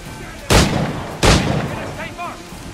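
Soldiers open fire in Assassin's Creed IV Black Flag: two loud, sharp gunshot blasts about a second apart, each with a short echoing tail, followed by quieter game sounds.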